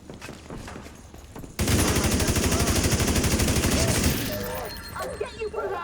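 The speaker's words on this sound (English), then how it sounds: "Who needs Eager Bear when you can have Tommy gun?" A Tommy gun fires in the video game The Division 2: a loud, unbroken rapid-fire burst of about two and a half seconds, then trailing game effects and scattered clatter.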